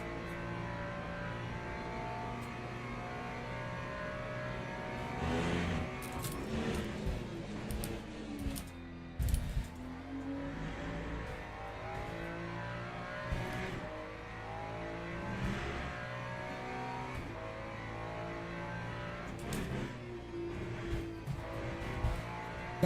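Lexus race car engine in the Le Mans Ultimate sim racing game at the Qatar circuit, revving and droning steadily throughout with gear shifts, throttle lifts and rising and falling pitch, loud and continuous with no talk.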